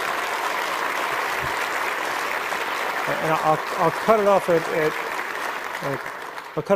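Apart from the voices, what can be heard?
applause from conference audience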